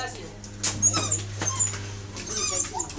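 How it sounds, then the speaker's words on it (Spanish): A pet dog whimpers and yips in short, high, wavering bursts close by, mixed with a person talking and a steady low hum underneath. "Ahí está mi perro."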